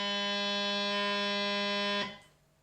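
A bagpipe sounds one steady, sustained note with a bright, buzzing drone for about two seconds, then cuts off abruptly into quiet.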